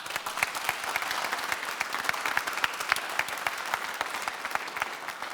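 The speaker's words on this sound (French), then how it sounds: "On va l'encourager, faire un petit applaudissement pour Scully." A studio audience on a French golf instruction show gives a steady burst of applause, many hands clapping densely and evenly for about five seconds with no voices over it.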